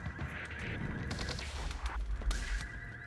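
Shotgun blasts and chaotic combat in the video game Quantum Break, dense and noisy, with repeated bangs toward the end.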